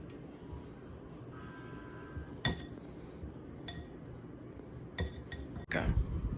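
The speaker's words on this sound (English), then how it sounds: "Now we're going to mix in our salt and our vanilla. And you're going to mix it together." A few sparse clinks of a utensil against a bowl as salt and vanilla are stirred into fudge brownie batter, faint and scattered over quiet room noise.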